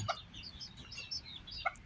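Ten-day-old Benjarong-coloured bantam chicks cheep softly, scattered faint high peeps and chirps close by in a quiet room.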